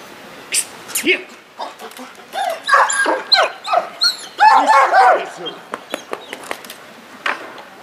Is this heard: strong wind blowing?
no